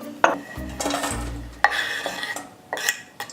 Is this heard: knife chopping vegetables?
yes